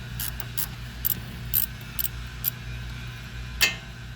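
A ratchet turns the strut nut on a Mazda front strut, giving a series of short, crisp clicks at irregular intervals over a low steady background hum.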